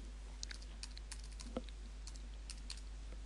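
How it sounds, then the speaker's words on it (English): A password is typed on a computer keyboard, a quiet series of irregular close key clicks over a faint low hum. "and I'll type in the password."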